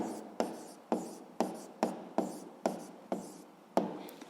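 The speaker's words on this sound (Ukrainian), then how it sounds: "Ну що ж, записуємо відповідь, пишемо відповідь" An answer being written by hand, eight evenly spaced scratchy strokes, each a short sharp onset fading quickly, close and quiet with no talking.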